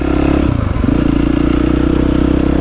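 A motorcycle engine runs close by with a loud, steady throb, briefly dipping and recovering in pitch as the throttle shifts, with a light rattling clatter over the idle.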